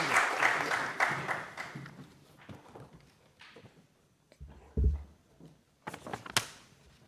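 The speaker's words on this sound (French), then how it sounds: "Sous vos applaudissements." Scattered applause from a crowd, fading into sparse claps, thumps and shuffling noises, with a few louder knocks near the end.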